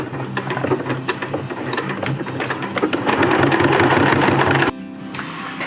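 A sewing machine stitches webbing for a DIY Dyneema stuff sack, a rapid mechanical clatter running steadily and growing slightly louder before stopping abruptly, leaving faint room noise.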